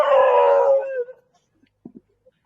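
A dog howls in the background of an online interview, one long wavering howl that fades out, followed by a few faint short knocks and yips in near silence.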